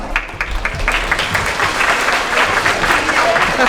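An audience at a school performance for first to fourth graders claps continuously, a dense, loud patter of many hands that starts at once and carries on without a break.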